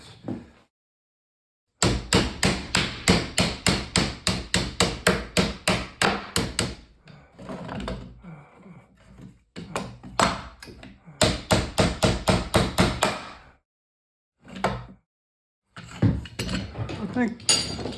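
Sharp hammer blows knock apart a tightly built wooden pallet, landing in rapid, evenly spaced bursts of loud close strikes with short pauses between runs, and someone talks briefly between the blows.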